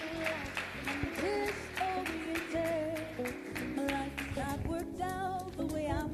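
Crowd clapping at the Free State SGB Excellence Awards evening, steady applause mixed under music and voices that carry on through the whole stretch.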